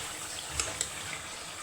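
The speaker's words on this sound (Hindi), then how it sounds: "मैं डालूंगी इसमें पानी" Water pours into a cooking pot on a home stove, a soft continuous gush with a couple of faint clinks, heard close and alone at low volume.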